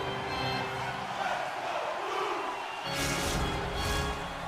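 A steady, broad roar from a hockey video game crowd at an esports Cyber Cup match fills the whole stretch and swells louder during the last second and a half.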